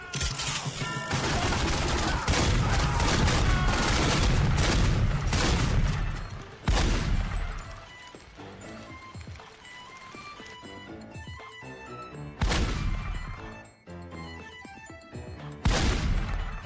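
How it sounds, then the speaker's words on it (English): Molotov cocktail attacks in The Godfather video game: loud bursts of crackling fire and smashing mixed with gunfire and booms, dense chaotic action noise with sudden hits and quieter gaps between. "Fire is now a bigger part of the game too, as you can see. Molotovs can make short work of your enemies."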